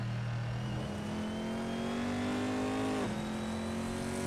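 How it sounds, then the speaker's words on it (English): A Corvette C7.R race car at Road Atlanta holds a loud, steady engine drone whose pitch climbs gradually as the rear tires lift and unload, then drops sharply just after three seconds, with faint tire noise underneath. "You can hear when the rear tires lift off, the revs rise up just a little bit."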